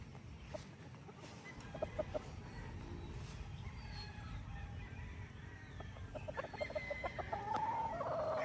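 Broodstag roosters and pullets on a farm cluck steadily in the background, with a few short crowing calls rising near the end over a constant low rumble of the yard.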